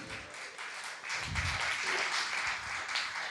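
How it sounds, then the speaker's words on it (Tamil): A Sunday service congregation claps together in a dense, steady wash of applause, fairly distant and soft, with a brief low thump partway through. "கைத்தட்டி சொல்லுங்க"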